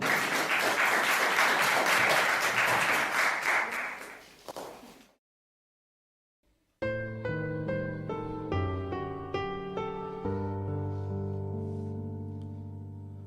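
A studio audience on a music show applauds a singer with a loud, thick burst of clapping that fades out into a short silence before a tuneful musical accompaniment starts up.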